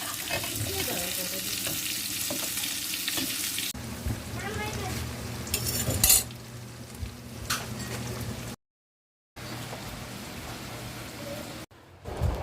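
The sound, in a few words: big fish being lightly fried in a pan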